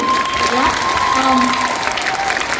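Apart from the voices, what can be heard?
audience applause at a cosplay contest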